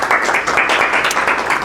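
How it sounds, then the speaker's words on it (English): A seminar audience gives a burst of steady, dense applause, filling the room evenly and close by with no talk over it. "Let's give him a big round of applause."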